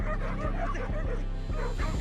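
Several dogs bark frantically and repeatedly at a leopard caught in a fence, a dense, loud chorus of overlapping barks and yelps without pause.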